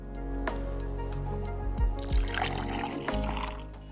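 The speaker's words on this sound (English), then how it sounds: "For our only wet ingredient, we are going to add 2/3 cup of milk." Milk poured into a bowl of flour and butter for hot pocket dough makes close, quiet liquid trickles and drips, with a few soft squishy splashes over a low background hum.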